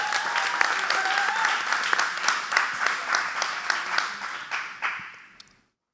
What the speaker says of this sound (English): Let's give it up for Allen, you guys.